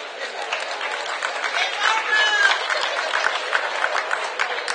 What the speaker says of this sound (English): Big round of applause for Barbara Mason.